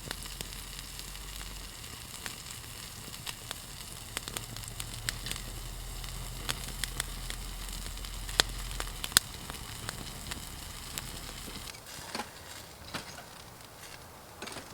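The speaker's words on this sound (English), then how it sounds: "Something very therapeutic about having a campfire" Campfire under a tarp shelter with a soft continuous sizzle and scattered sharp crackles and pops. It stays fairly quiet and close throughout, with a low hum in the first half.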